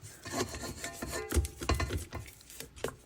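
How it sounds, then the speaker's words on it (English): A spatula scrapes around the sides of a mixing bowl of red velvet bundt cake batter, giving a series of close, soft rubbing and rasping strokes with a few firmer knocks, all without talk. "So scrape down your bowl."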